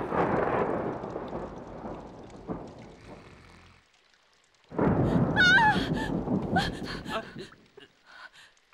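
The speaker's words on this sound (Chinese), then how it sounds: "我怕打雷" Thunder in a kung fu film: a loud rolling crash that fades out, a moment of near silence, then a second heavy rumbling burst with a thin high whine layered over it.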